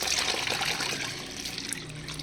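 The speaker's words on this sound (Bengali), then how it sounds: "এই জলটার মধ্যে আমি কিছুটা জল ঢেলে নিচ্ছি" Water poured into a container, a continuous close, fairly loud rushing splash that eases slightly toward the end.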